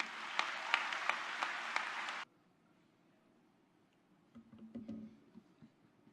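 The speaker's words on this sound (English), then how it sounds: "amidst all the thunderous applause" An audience at a book release event applauds to welcome a speaker onto the stage, with dense clapping that stops abruptly after about two seconds. Quiet rustling and faint shuffling follow.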